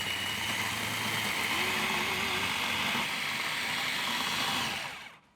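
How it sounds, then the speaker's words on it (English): A food processor blending softened cream cheese with brownies, a steady close motor whir with a grinding churn that holds for about five seconds and then cuts off. "I'm gonna let the food processor completely mix this together until it's just a chocolate masterpiece"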